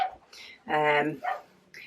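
A dog gives a short, loud play bark that rises to a harmonic peak, followed by a softer yelp, close to the mic with a quiet room around it.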